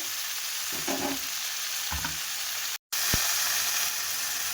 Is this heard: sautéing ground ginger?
yes